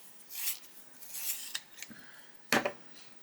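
A colored pencil being sharpened during adult colouring, with short scraping and grinding bursts in a few brief strokes and a sharper rasp near the end, close and fairly quiet, with no talking.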